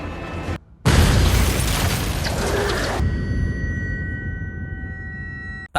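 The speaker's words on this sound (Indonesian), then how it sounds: "Dan secara tiba-tiba, salah satu pintu safe house diledakkan," An explosion blows open a safe house door in a film scene: a sudden loud blast follows a brief silence, then a roaring burst of debris lasts about two seconds and fades to a low, ringing hum.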